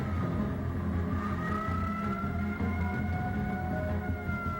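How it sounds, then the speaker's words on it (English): Tsunami warning sirens wail steadily in the distance, their rising and falling tones layered over a low, continuous rumble of background noise. "the tsunami sirens went off. You hear the sirens?"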